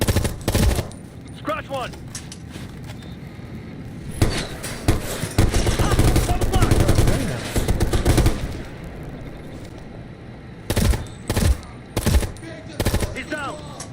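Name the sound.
light machine gun fire in a video game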